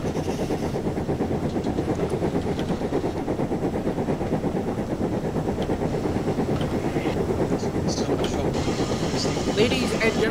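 A train in Train Simulator 2018 rolls in alongside, giving a steady, loud, dense rumble of wheels and machinery throughout, with faint higher clanks near the end.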